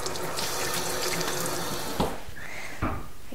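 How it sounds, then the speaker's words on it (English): Hands are washed under a running kitchen tap, with a steady close splash of flowing water broken by a couple of sharper splashes and some rubbing near the end. "and wash my hands"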